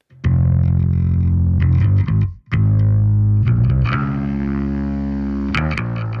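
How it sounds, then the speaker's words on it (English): Electric bass guitar played through a small room reverb pedal in Fender Studio software, heavy distorted sustained notes with chorus-like shimmer, a short break, then more loud held notes with a slight room tail. "I wouldn't usually use a small room reverb on a bass"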